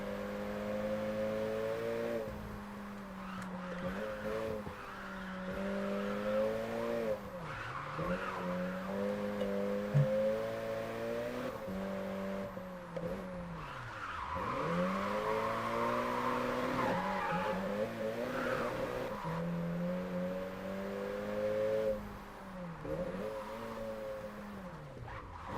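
A car in a JDM driving video game revs up and down through repeated gear shifts, engine pitch climbing and dropping in waves, with tire squeal and skidding during braking, steady and loud with no talking.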